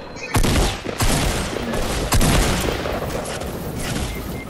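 Rapid, loud bursts of gunfire from the video game Fortnite crackle almost continuously, with sharper shot spikes standing out near the start and around the two-second mark.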